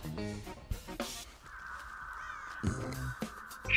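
Crows caw repeatedly in the horror game Dead by Daylight, harsh calls in an uneven series over a steady in-game drone, with a few clunks and rustles nearby.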